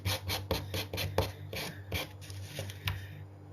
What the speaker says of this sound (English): I'm just going to very quickly sand the edges.